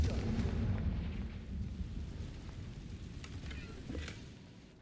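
A Confringo spell explosion bursts with a deep, rumbling boom in the video game Hogwarts Legacy, then decays into a fading crackle with small debris-like pops.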